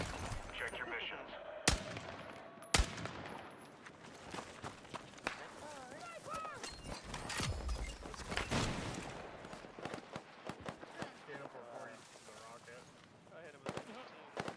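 Light machine gun fire echoes through a video game match, with several sharp bursts and scattered shots mixed with footsteps and game effects while players talk over the action.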